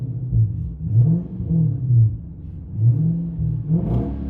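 Interior view of an Infiniti M45S with its 4.5L V8 blipped a few times, the low rumble swelling and dropping in quick, moderately loud revs with no talking.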